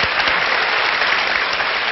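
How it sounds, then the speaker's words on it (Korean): Sustained, dense applause from a studio audience at a Korean lecture show, steady and loud throughout with no voices over it. "박수 한번."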